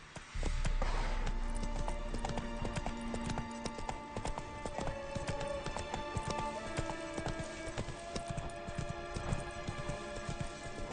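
Roach the horse gallops in The Witcher 3, with rapid, continuous clip-clop hoofbeats close by over a sustained tonal backdrop for the whole stretch.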